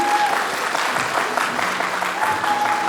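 An audience at a book presentation applauds steadily and warmly, a dense, even wash of clapping hands filling the room throughout without pause.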